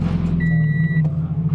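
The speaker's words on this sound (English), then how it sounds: "I'm gonna turn the car on just like AC." A Scion FR-S is started on a hot day. Its deep engine rumble sits close and loud, an electronic chime sounds briefly, and a short click follows.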